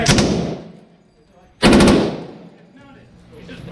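Gun with a red dot sight fired at a shooting range, two loud close bursts about a second and a half apart, each decaying into the room.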